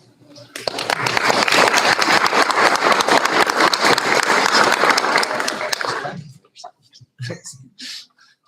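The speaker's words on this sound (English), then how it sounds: "She was clapping for herself." Applause at a board meeting, a loud sustained burst of many hands clapping for several seconds before it cuts off, followed by scattered brief talk in a quiet room.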